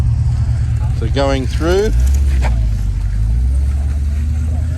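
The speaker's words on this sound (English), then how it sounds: "So there's the HSV Club Sport, and what a great sight and what a great sound, folks." An HSV Clubsport's engine rumbles deep and steady at an outdoor cars-and-coffee gathering, with someone talking briefly over the sound near the start.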